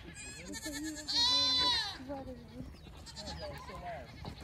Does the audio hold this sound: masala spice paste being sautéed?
no